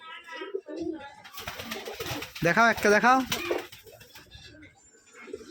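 Roller pigeons coo in a short burst of soft, throaty calls close by, with people talking before and after.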